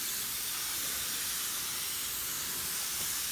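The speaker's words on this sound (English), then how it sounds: "I'm just spraying some water because the soil seemed a little dry" Spray bottle misting water onto dry soil in a sprouting tray, a steady, close hiss of fine spray running continuously without pauses or talking.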